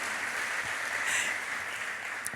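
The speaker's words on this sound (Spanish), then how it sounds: "denle un aplauso a esa mujer" A church crowd applauds a mother of faith, a steady wash of many hands clapping at moderate distance, sustained and even throughout with no talk over it.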